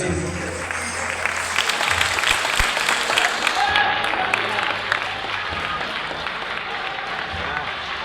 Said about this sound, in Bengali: যে হাততালি চলবে